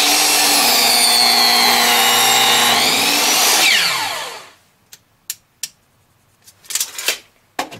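A miter saw cuts through wood for rustic vases, its loud whine running steadily for several seconds before spinning down, followed by a few sharp clicks and knocks of handling in the quiet.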